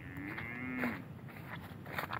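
Cattle give one long, drawn-out moo in a field of tall sesame plants, clear and fairly close, followed by quieter outdoor background noise with no talking.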